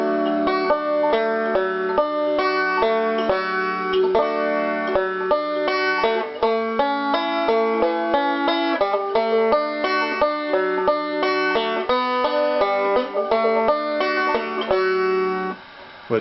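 A banjo rings out a fingered chord, then moves through a run of bright, plucked picking with quick, even note attacks, played close and clear with no voices.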